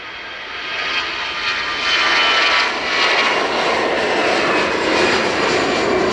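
A China Eastern airliner's jet engines roar as it departs Dublin Airport, a loud, sustained broadband rumble that swells and holds steady without talk.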